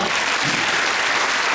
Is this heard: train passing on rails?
no